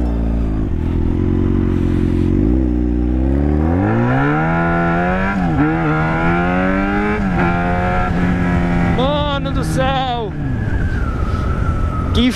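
A Yamaha XJ6 motorcycle accelerates hard, its engine note climbing steadily in pitch through the gears, loud and close, with a shift and renewed rise near the end.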